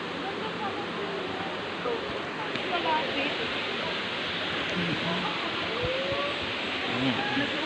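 Rushing water of Daranac Falls in Tanay, Rizal, a steady broadband roar filling the scene without pause, close and continuous.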